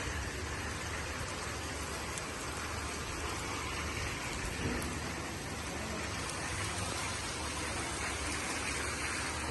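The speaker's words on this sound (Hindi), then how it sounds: "लाइट तो चली गई है लेकिन काफ़ी तेज़ बारिश है" Heavy rain pours down steadily, a dense, even hiss that never lets up.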